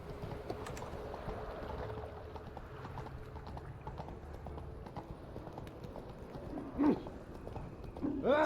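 Roach, the horse in The Witcher 3 video game, walks with soft, steady hoofbeats under ambient game sounds, and a brief whinny-like cry rises near the end.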